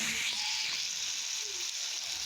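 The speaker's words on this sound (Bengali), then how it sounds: "দিয়ে এখন ভালো করে আমি এটাকে লাড়া দিয়ে দিতেছি" Spiced cabbage fries in a pan while being stirred, giving a steady close sizzle with a few soft scraping touches and no voices.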